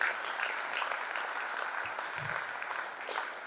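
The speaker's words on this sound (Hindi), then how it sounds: "तो सर के लिए हम फिर से अनुमोदन करने के लिए तालियां बजाएंगे" An audience at a sendoff ceremony for a residential training course batch claps steadily, a moderately loud, even wash of applause with no break across the short stretch.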